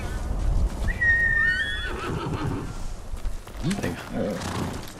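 A horse in Ghost of Tsushima lets out a loud, wavering neigh, then its hooves clop and shuffle nearby, with game ambience underneath.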